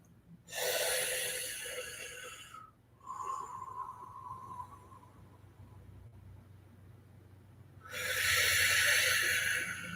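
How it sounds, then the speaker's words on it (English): In a Kundalini yoga practice, long deep breaths are pushed out through a rounded mouth: two loud, breathy exhalations separated by a quieter inhale, each lasting a couple of seconds, with no talking. "you're breathing through a rounded mouth"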